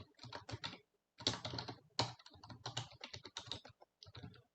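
Rapid clattering keystrokes of C++ code being typed on a computer keyboard, in bursts with short pauses, close and alone with no voices.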